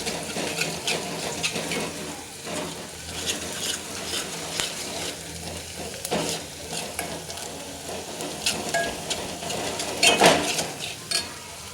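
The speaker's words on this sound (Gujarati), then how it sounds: "તો લસણવાળી ચટણી લઈ લીધી છે, નાખી દઈએ. મિક્સ કરી લઈશું." A spoon stirs garlic chutney into food in a pan on a gas stove, soft scraping and light sizzling in irregular bursts, with occasional clinks of metal against the pan.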